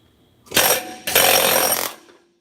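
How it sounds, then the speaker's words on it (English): Two loud, dense bursts of impact and scraping noise from a chisel being struck to pop parts apart, each lasting about half a second, close to the microphone with no talking. "we just need to hit it a couple times with the chisel"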